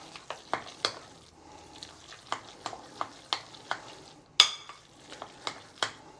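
Five spice meat paste with sesame oil being stirred in a bowl, giving a run of sharp, fairly regular scraping and slapping strokes, close and moderately loud, with one louder clack near the end.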